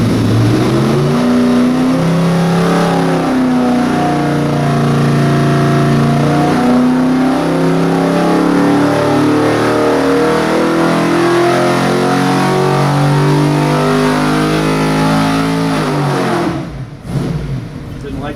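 A 1971 Corvette LS6 454 big-block V8 revs hard on a dyno, a loud, sustained roar that climbs and falls in pitch for many seconds before cutting off abruptly near the end.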